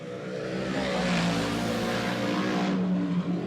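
Modified race cars roaring around New Egypt Speedway, engines droning loud and close with rising and falling harmonic whine as a pack sweeps past, then a sudden drop-off as they pull away, no voices audible.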